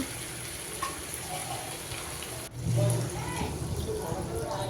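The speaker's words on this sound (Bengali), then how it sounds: "তো এখন পরিমাণ মতো ঝোলের পানি দিয়ে দিলাম" Water poured into a simmering potato and meat curry to make the gravy, a steady broadband rush of liquid running through the clip with a brief dip and surge midway, heard close with no speech.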